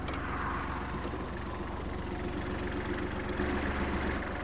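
Close by, a Kubota GL-25 Japanese mini tractor idles with its side covers off, giving a steady low diesel chug with mild vibration, unbroken and with no voices.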